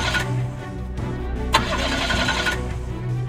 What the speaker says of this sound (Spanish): Voy a arrancar el coche